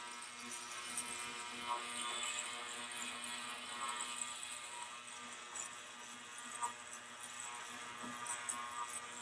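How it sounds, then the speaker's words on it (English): An ultrasonic cleaner cavitates while cleaning a Honda GCV carburetor from a Troy-bilt TB240 lawnmower, giving a faint, steady high-pitched hiss and buzz that carries on unbroken, with small crackling flutters. "the cavitation is already cleaning out the inside of that"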